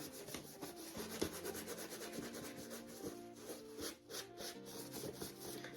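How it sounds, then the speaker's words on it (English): A cloth rubs excess wax off a piece of upcycled furniture, a steady close-up scrubbing and rasping with a faint rhythmic pulse and no voices. "So I'm just gonna go up here and wipe that back a little bit."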